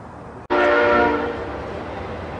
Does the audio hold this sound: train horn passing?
yes